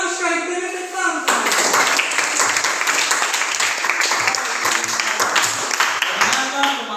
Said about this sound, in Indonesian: Bagus sekali, beri tepuk tangan